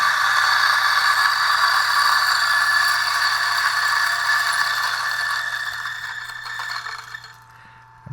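A coffee grinder grinds beans at a medium setting, a loud continuous rattling whir with a steady low hum that thins out and drops near the end as the beans run through.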